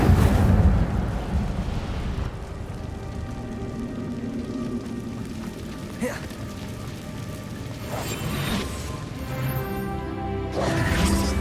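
Fiery spell bursts from the Incendio charm in Hogwarts Legacy, set in the Dark Forest: a loud rushing blaze at the start, then several sharp crackling flares at intervals over a steady ambient roar, with game music tones underneath.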